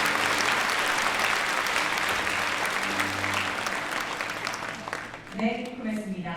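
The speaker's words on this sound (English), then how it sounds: "Please give him one more round of applause." Sustained audience applause at a peace commemoration ceremony, dense steady clapping filling the hall for several seconds before thinning out as a voice begins at the end.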